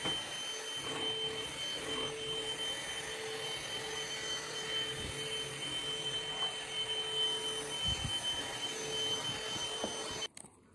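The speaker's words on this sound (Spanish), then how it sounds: "Y aquí me tenéis con mi aspiradora pasándosela por la habitación después de hacer la cama" A vacuum cleaner runs on a bedroom floor with a steady whining hum and faint bumps as it moves, then cuts off abruptly near the end.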